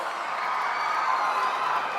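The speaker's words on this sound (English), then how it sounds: "A huge round of applause." Audience applause at a Quantum Valley foundation-stone ceremony in Amaravati, a steady wash of crowd clapping at moderate level, sustained and even throughout without distinct individual claps standing out.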